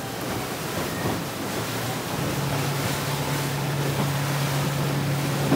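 A Four Winns H2e electric boat turns and eases off speed, its water rushing and hull wash forming a steady broadband roar, with a faint low tonal hum joining midway.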